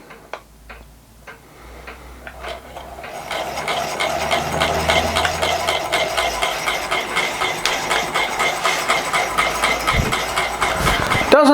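A clockwork model steam engine runs after being wound, a steady, fast mechanical ticking and whirring that builds after a few faint clicks and holds at an even rhythm close by.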